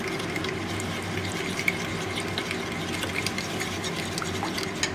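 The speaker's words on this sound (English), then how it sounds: "Now I'm just going to stir this around." A spoon stirs a lemon juice and rosemary dressing in a bowl, giving a steady soft swishing and light clinking that continues throughout with no pauses.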